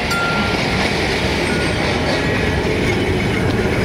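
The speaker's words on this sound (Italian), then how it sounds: "State attenti al tram." Milan tram rumbles steadily past on the rails, a loud continuous roar with wheel noise and rattling, close by and alone with no talk.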